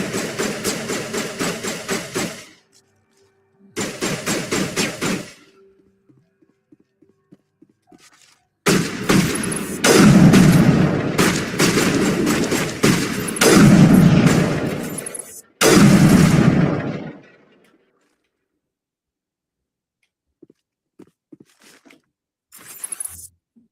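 Bursts of gunfire in the Mass Effect video game, loud broadband blasts in clusters separated by silences, with short pauses and trailing echoes between volleys.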